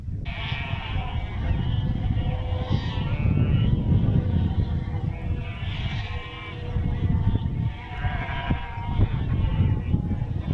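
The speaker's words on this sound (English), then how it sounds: "unfortunately we had to disturb these sheep which were enjoying the shadow of the tower" Sheep bleat repeatedly on a hillside beside Dryhope Tower near St Mary's Loch in the Scottish Borders, several calls overlapping at close range over steady wind noise.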